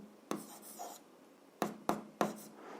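Pen strokes on paper while working an algebra exercise: a longer scratchy stroke, then three short, sharp marks in quick succession, close and fairly quiet with no talking.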